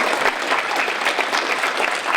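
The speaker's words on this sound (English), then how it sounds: "Let's give them a round of applause." Applause from a panel event audience, a steady wash of clapping held at an even level for a couple of seconds, with no voices on top.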